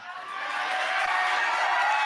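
A crowd at an event in Springfield, Ohio, rises to its feet cheering and clapping, a loud, continuous roar that swells over two seconds.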